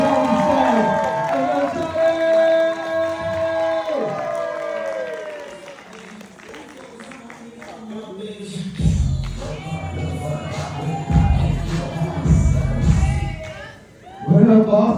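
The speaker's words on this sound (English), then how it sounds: "I want y'all to start clapping right now." A comedy-club audience in Boston claps and cheers for stand-up comedian Elcharlie. Loud, dense applause and crowd noise swell through the second half with a sharp burst near the end, following an opening stretch of music and voices.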